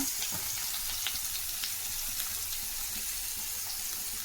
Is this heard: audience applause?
no